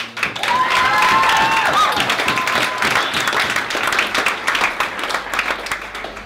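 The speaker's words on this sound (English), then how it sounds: "So once again, a bit of a round of applause." Wedding guests applaud the bride with loud, continuous clapping that starts strong, softens gradually and thins to scattered claps, with a few whoops mixed in early on.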